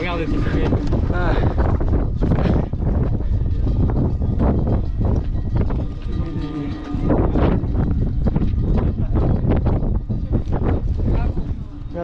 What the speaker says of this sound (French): Un peu de vent hein.